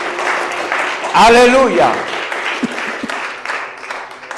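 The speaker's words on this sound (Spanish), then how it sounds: "Pero fuerte, un aplauso que se oiga hasta el cielo" Church congregation applauding during a Spanish-language worship service, a steady broadband clatter filling the room while a voice briefly rises in a drawn-out shout over it.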